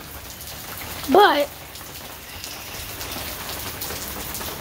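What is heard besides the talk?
heavy rain during Hurricane Nicholas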